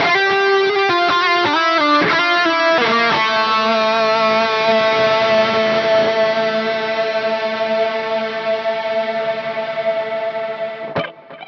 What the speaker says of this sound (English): I've got a nice reverb throw that happens coming out of the second chorus and going